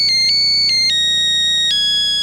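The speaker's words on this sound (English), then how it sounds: "The Nokia Husker phone with the fight song ringer, only at Alltel Wireless." A Nokia cell phone ringtone plays a melodic electronic rendition of the Nebraska Cornhuskers fight song, its bright tones stepping through several sustained notes, loud and close with no talking.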